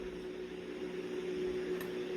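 Microwave oven running steadily at close range, a constant low mechanical hum with a fan-like whirr, alone with no voices and no clear beeps or breaks.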